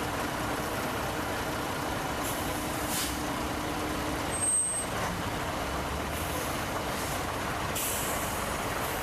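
A DAF 1500 lorry rolls past during a vintage wagon run, a steady broad engine rumble that stays loud all the way through. A short hiss like an air brake comes through near the middle, and no one speaks.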